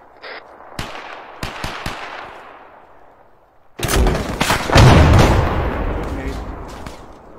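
Gunfire in the Arma 3 military game: a few sharp separate shots early on, then after a pause a loud, dense burst of sustained shooting that holds close and heavy to the end, with some voices mixed in.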